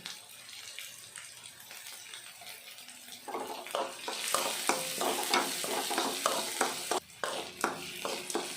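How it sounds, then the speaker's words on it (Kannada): Onions frying in oil for banana flower curry, a quiet start giving way to louder sizzling with a rhythmic series of spoon scrapes against the pan, fairly close, without speech. "ಈರುಳ್ಳಿ ಎಲ್ಲ ಚೆನ್ನಾಗಿ ಎಣ್ಣೆ ಫ್ರೈ ಆಗಬೇಕು"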